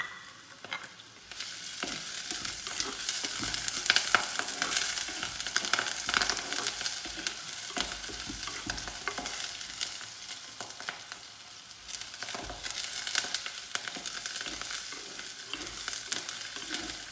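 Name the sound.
curry leaves and green chillies frying and stirred in pan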